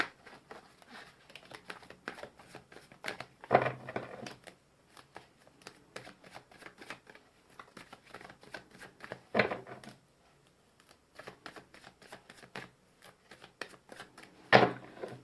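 Tarot cards being shuffled by hand in a long run of quick, crisp riffles and slaps, with three louder bursts spaced through it and brief quiet gaps between.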